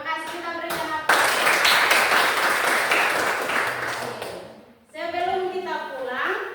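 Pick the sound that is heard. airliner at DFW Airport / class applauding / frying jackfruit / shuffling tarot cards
class applauding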